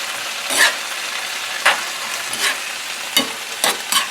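Fried cabbage and potatoes in bacon fat with chicken broth, stirred in a pan: steady sizzling broken by five or six loud, irregular scraping strokes, close and with no talking.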